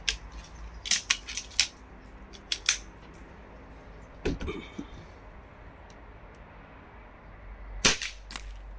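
A 4.5 joule air rifle shoots at a block of ice, giving sharp close cracks in small clusters followed by impact clicks, spaced out by quiet stretches with low background noise.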